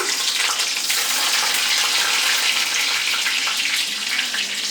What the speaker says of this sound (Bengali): এবার কড়াই প্রথমে আমি দিলাম রসুন